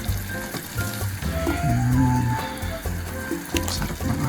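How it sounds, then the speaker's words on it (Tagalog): Salted pork hock going into a hot pot for sinigang, a loud, busy sizzle with crackling and sputtering, close and continuous throughout. "Lagyan na natin ang ating karne. Dahan-dahan lang po."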